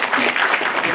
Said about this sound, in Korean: 주제 발표를 해주신 정규 교수님 다시 한번 큰 박수 부탁드립니다.